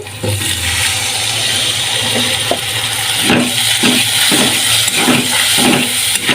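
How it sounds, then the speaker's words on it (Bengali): Water is poured into a pan of chicken masala cooking with red chilli and Kashmiri chilli powder, giving a steady, loud hissing sizzle throughout with a few soft clinks and splashes. "অল্প একটু জল দিয়ে দেব"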